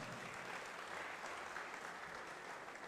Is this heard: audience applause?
yes